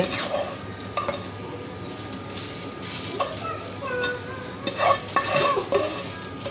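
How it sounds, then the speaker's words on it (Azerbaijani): A spoon scrapes and stirs food around a pan with a soft sizzle, irregular clinks of utensil against metal throughout. "Dedim elə tavada qarışdırarıq"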